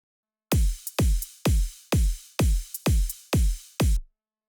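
A short progressive house electronic drum loop plays alone: steady kicks on every beat with crisp claps and bright offbeat hi-hat ticks layered over them, then stops.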